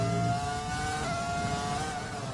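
Race cars in a classic racing video game at an Italian Grand Prix, a steady high engine drone with shifting whine that holds alone and loud for a couple of seconds.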